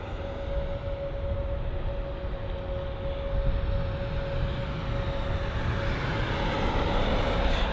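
An aircraft taxiing at London Heathrow gives a steady broad engine rumble with a sustained whine riding on top, constant and unbroken at moderate distance.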